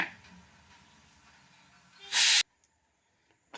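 A loud burst of hissing steam from a pressure cooker as its weight is lifted while cooking moong dal for sweet suzhiyam, rushing for about a third of a second before cutting off into near silence.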